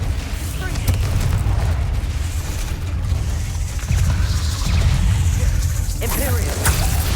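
Spell blasts boom repeatedly in Hogwarts Legacy combat, loud rumbling bursts layered over continuous game noise while a voice speaks over the action.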